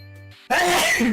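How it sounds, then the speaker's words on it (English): A single sharp, loud sneeze bursts out close to the mic after a brief electronic tone and a quiet gap. "Sneeze."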